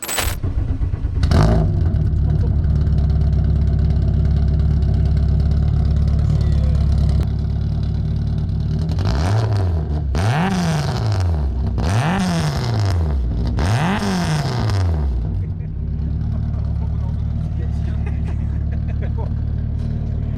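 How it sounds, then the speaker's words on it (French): A rally car engine starts with a burst, idles roughly, then revs hard three times in quick succession, each rev rising and falling, before settling back to idle. "Est-ce qu'on peut maintenant l'entendre? Oh, bien sûr. Allez, c'est parti. Pas de souci, je vais vous démarrer ça."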